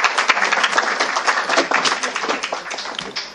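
Audience at a mushaira, an Urdu poetry gathering, breaks into sustained dense clapping to welcome a poet, a steady roar of many hands filling the hall without pause.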